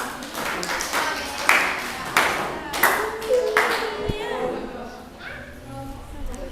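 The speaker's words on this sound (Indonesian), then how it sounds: "Beri tepuk tangannya dong." Classmates in a school classroom clap for a student group after its presentation: uneven bursts of hand clapping, fairly close, rising and falling over several seconds with voices talking around them.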